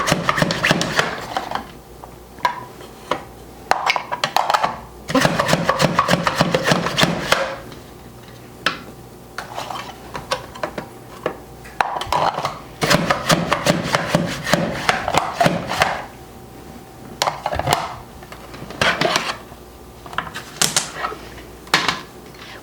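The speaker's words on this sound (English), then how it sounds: "So I have my little mandolin here, and the recipe calls for an 1/8 inch slice." Radishes sliced on a mandolin slicer at an eighth-inch setting, making quick bursts of rapid, rattling strokes that start and stop in close, busy clusters, each run followed by short pauses, with no talking.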